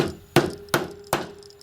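A hammer strikes a cartridge case seated in a Lee Loader reloading kit three times in steady succession, each a sharp, close, solid knock with a short ring, separated by brief quiet.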